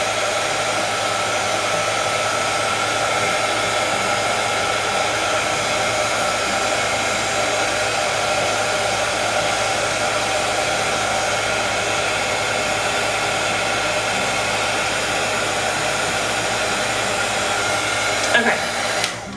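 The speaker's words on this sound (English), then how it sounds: "So you take your embossing tool, turn it on, it will get hot." An embossing heat tool blows hot air in a steady, loud, continuous whoosh for nearly the whole stretch, with a brief knock or shift near the end as it is set down or switched off.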